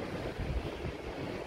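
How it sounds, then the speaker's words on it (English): Wind buffets the microphone on a seaside pier, a brief, steady rumbling roar with gusty low-frequency blasts and no voices. "sorry about the wind."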